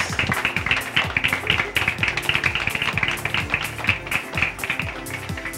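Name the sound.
applause for a pageant contestant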